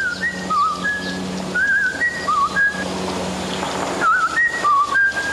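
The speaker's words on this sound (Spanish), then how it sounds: "Hace ya casi 40 años que no silbaba." A man whistles a bright, wavering tune in short repeated phrases, close and clear over a steady background hum.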